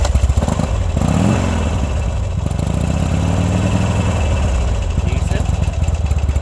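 A 2003 Harley Davidson Buell with an ignition fuse-blowing fault idles loud and close after starting, a steady low, throbbing rumble with a slight clattery edge that holds throughout.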